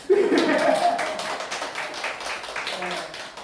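A church congregation breaks into applause, a burst of clapping that swells then fades over a few seconds, with a voice speaking over it.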